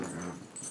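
A pet dog whimpering and growling low in her bed, a brief close, muffled grumble with a nasal whine.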